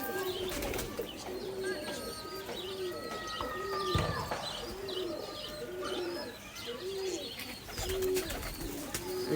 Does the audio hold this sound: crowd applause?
no